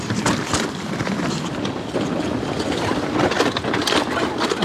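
Wind rises through the bush on a track in Berowra Valley near Hornsby, a steady broadband rush with gusting swells and scattered rustle, fairly close and continuous, no talking.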